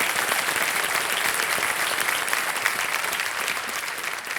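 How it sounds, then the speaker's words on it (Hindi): A studio audience on the KBC game show claps steadily and loudly, a dense wash of applause that holds for several seconds without pause. "एक बार फिर से तालियों के साथ उनका स्वागत।"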